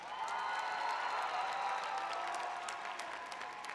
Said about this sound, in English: please cheer as you hear the one you focused on